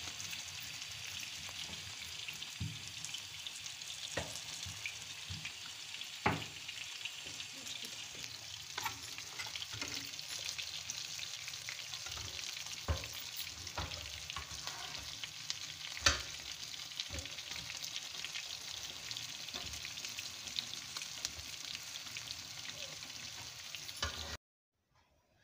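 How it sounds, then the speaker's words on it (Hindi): Besan-coated fish pieces frying in hot oil, a steady close crackling sizzle that holds evenly throughout, dotted with sharper pops and spits before cutting off at the very end. "देखें ये फ्राई हो रही है।"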